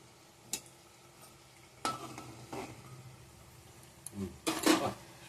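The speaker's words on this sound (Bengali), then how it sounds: "আমার কাছে একটু কম তেল, তো সময় নিয়ে ভাজছি একটু।" Singara (samosas) frying slowly in a small amount of oil, a faint low sizzle with occasional scrapes and clinks of a utensil against the pan, louder stirring near the end.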